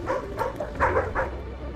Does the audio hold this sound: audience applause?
no